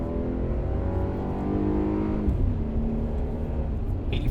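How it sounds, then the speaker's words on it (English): A Chevy Colorado pickup with its stock exhaust accelerates onto a highway, a steady engine drone heard from inside the cab rising in pitch through a gear change amid road noise. "we're pulling onto the highway to see how loud the stock exhaust is"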